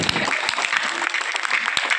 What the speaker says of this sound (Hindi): ताली बजाओ सरपंच साहब के लिए